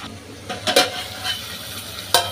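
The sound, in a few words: spiny gourd and potato curry being stir-fried in oil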